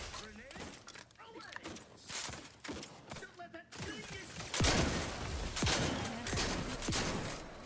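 Gunshots in a space-themed game, scattered sharp reports and thunks that build into a heavier barrage toward the end, mixed with game effects and a player talking.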